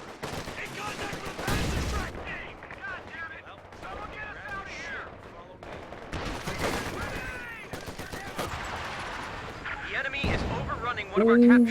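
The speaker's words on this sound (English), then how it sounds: "One pack howitzer shot just knocks them out." Broadband artillery blasts from a pack howitzer in Company of Heroes 2 boom out in several bursts across the stretch, mixed with other battle noise while a commentator talks over them.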